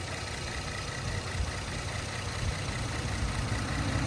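A 2017 Ford Explorer Platinum 4X4's 3.5-liter twin-turbo EcoBoost V6 idles steadily under an open hood, a close, even broadband hum with a low rumble and no revving.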